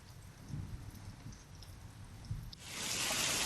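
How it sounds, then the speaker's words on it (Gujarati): Low thunder rumbles faintly in the background, then a loud, dense hiss of heavy rain takes over and holds steady. "ગાજવીજ સાથે ધોધમાર વરસાદ પડ્યો"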